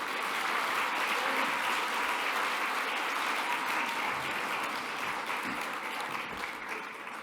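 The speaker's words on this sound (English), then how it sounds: "Let's give them another round of applause." An audience applauds steadily after a singing performance at an Indigenous-led clean energy gathering, a dense, even wash of clapping that holds for several seconds and fades slightly at the end.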